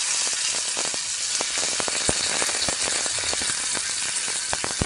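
Chopped tomatoes sautéing over medium heat in a pan with curry leaves for tomato thokku, giving a steady, loud, close sizzle with scattered crackles and pops and no talk.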